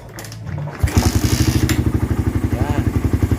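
A Suzuki Raider R150 motorcycle with a stock engine is started: a short cranking whir, then the engine catches into a loud, rapid, even thumping idle close by, with faint talk early on.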